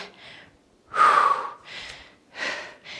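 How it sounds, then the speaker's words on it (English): Heavy, effortful breaths during a full-body dumbbell workout come as loud, rasping gasps and exhales in an uneven rhythm, close to the microphone, with no talking over them. "probably hear me breathing hard already"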